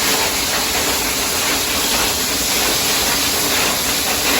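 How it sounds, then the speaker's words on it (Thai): Steady, dense hiss and rumble of water at a rolling boil, loud and close, continuous with no voices. "น้ำเดือดแล้ว"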